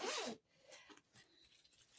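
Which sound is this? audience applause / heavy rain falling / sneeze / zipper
zipper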